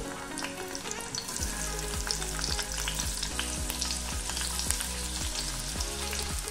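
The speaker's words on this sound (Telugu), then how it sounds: "ఆయిల్ కాగిన తర్వాత ఇందులోకి ఉల్లిపాయ చీలికలు వేసుకోవాలి" Onion slices fry in hot oil in a pan, an even crackling sizzle with repeated stirring strokes and a low steady hum underneath, no voices.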